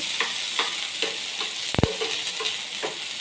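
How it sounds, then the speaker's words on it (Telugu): Onions fry gently on low gas while a spoon stirs them in a pan, giving a steady soft sizzle with light rhythmic scrapes and one sharp metallic clack near the middle. "ఈ ఉల్లిగడ్డలు వేసుకున్నాక స్పూన్తో కలుపుకోవాలి కొంచెం గ్యాస్ సిమ్లో పెట్టుకొని ఇలా కలుపుతూ"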